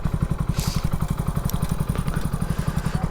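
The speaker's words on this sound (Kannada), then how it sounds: "ನೋಡಿ, ಇದು ನನ್ನ ಹೊಸ ಗಾಡಿ, ಇದು ಸ್ಪ್ಲೆಂಡರು." A Splendor motorcycle rides off-road, its engine thumping in a steady rapid pulse close by, with clattering and a brief hiss over the top.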